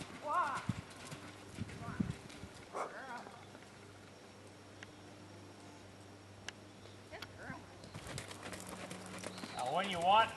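A horse walking while being ridden, with soft, irregular hoof clip-clops under a person's spoken instructions at moderate distance.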